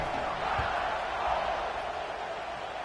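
A stadium crowd in a college football video game gives off a steady, diffuse roar that holds at an even level throughout.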